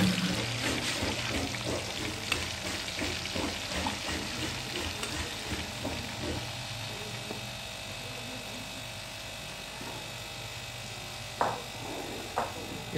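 One kilo of chana dal frying in one kilo of ghee, giving a continuous close hiss and sizzle with faint stirring noises over a background hum.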